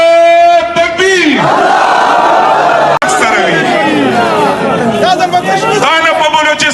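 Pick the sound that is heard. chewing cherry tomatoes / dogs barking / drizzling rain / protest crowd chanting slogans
protest crowd chanting slogans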